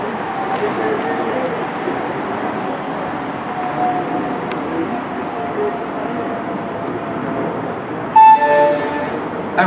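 A two-car Green Line light rail train rumbles steadily into Market Center Station, a broad continuous roar, with a short horn-like tone and electronic chimes sounding near the end.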